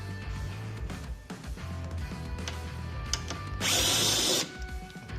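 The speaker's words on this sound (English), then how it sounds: "I'm going to also remove these wind deflector screws," A power drill backs out wind deflector screws on a Harley-Davidson Low Rider ST motorcycle, with short whirs and clicks followed by a loud, steady buzzing run near the end, close by.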